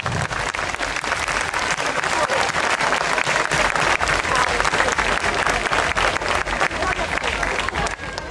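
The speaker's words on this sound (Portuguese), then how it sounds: "Salva de palmas para o nosso grupo de educadoras que tanto trabalhou durante o ano" A crowd at a school São João festival applauds its group of educators, sustained loud clapping close by with cheering voices mixed in, continuing for several seconds before tapering.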